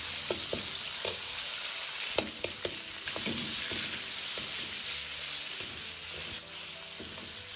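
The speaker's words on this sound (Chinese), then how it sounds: "下入五花肉片，先煸炒出香味。" Sliced pork belly stir-fries in a wok for a Sichuan spicy hot pot dish, a steady bright sizzle with scattered sharp clicks of a spatula stirring, close and continuous with no talking.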